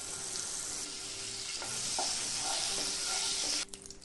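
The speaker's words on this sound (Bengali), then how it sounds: "এখন গ্যাসে কড়াই চাপিয়ে নিয়ে কিছুটা সাদা তেল দিয়েছি আর দিয়েছি কিছুটা বাটার।" White oil and butter sizzle steadily in a wok on a gas stove, a continuous close hiss that stays loud throughout and cuts off sharply near the end.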